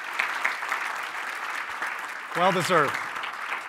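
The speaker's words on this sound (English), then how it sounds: "So how about a big round of applause for Hans and the rest of the team?" Applause from a conference audience of a few hundred, a steady broad patter under a speaker's voice, swelling briefly as another voice talks over it.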